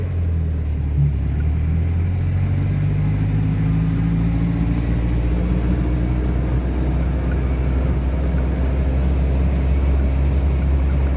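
A manual car engine pulls along in first gear, a steady low rumble with slowly rising pitch that holds at a constant, fairly loud level throughout.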